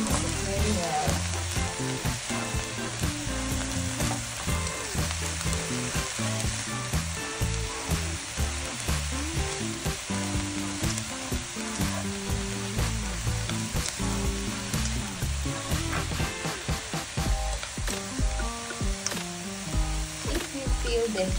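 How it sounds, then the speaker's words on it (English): Cauliflower sizzles loudly in a hot frying pan while being stirred for homemade dog food, a continuous close crackle with scraping and clinking of the spoon throughout. "Next step is we are adding cauliflower. Mix it very well."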